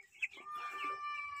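Broiler chickens on a farm give a few soft clucks and short calls, faint and close, with a brief sharper cry at the start.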